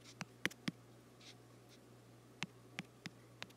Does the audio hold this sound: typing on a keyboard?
yes